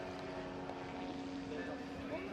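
An autogyro's engine drives its propeller at an air show, a steady droning hum with tonal lines running throughout, heard at moderate distance under a voice talking.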